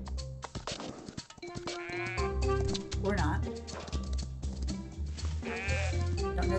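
Several sheep bleat in the video game Star Equestrian while a player chases escaped sheep, their wavering cries rising over game music and steady talk.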